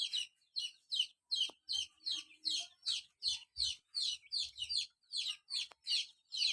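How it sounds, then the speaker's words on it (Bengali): Small chickens by a village coop in Naogaon give a rapid run of short, regular chirping calls, fairly faint and unbroken by any talk. "এখানে ছোট ছোট মুরগি আছে অনেক।"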